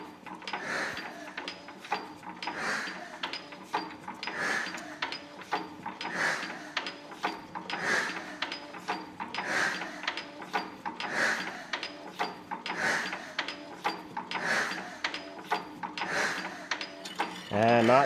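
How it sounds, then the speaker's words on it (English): An old diesel engine, left unused for about 30 years, is cranked over by its starter, giving a steady, evenly spaced mechanical churning that repeats for many turns without firing. "Let's crank this thing over and see if it'll start lifting fuel."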